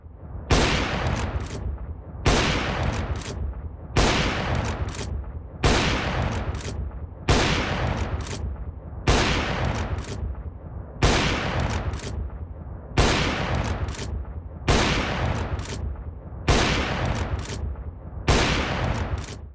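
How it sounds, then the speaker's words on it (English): AWP sniper rifle shots in CS:GO on an aim training map: about a dozen loud, sharp blasts, each with a decaying tail, fired at an even pace roughly every second and a half. "I started off with CSGO community aim training map where I practiced flicks with an AWP."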